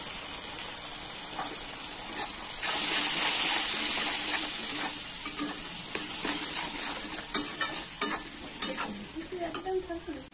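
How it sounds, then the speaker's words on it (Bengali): Garlic paste, salt, turmeric, cumin powder and dried chilli frying in a pan for a fish curry, a steady hiss that swells, then sharp scraping stirs and spattering pops toward the end. "মশলাগুলো কষানো হয়ে গেছে"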